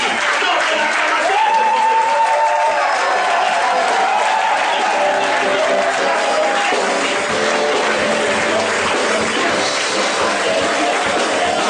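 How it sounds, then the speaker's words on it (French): Church congregation breaks into sustained applause and cheering, a dense crowd roar filling the room for the whole stretch, with voices shouting and a sung or called-out tone rising above it near the start. "Non, c'est l'acclamation."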